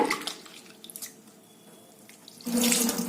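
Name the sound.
water running while washing lentils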